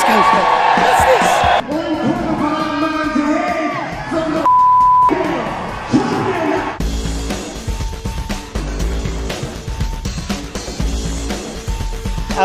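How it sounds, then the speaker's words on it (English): A dense arena crowd at a UFC fight, McGregor versus Khabib, yells and roars in a thick, loud wash, broken by abrupt cuts, a short electronic beep and heavy low rumbling. "Listen to the crowd."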